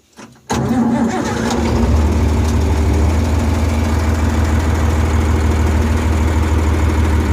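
A TM1200 tractor engine cranks briefly, catches and settles into a loud, steady idle that runs on alone without pause.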